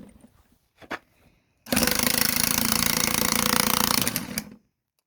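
An impact wrench rattles continuously and loudly for about three seconds while work is done on a Ford's shock mount and fuel tank, following a few faint clicks and knocks beforehand.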